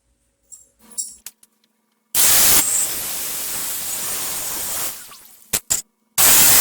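An angle grinder cuts through a metal hose clamp on a 1997-2006 Jeep Wrangler, with loud hissing bursts of grinding around short pauses and a final burst at the end; no voices.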